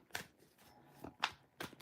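A few quick, papery riffling bursts of tarot cards being shuffled, close and fairly quiet, separated by short pauses with no talking.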